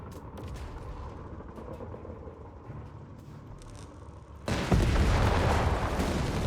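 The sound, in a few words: battle gunfire and explosions in video game Company of Heroes 3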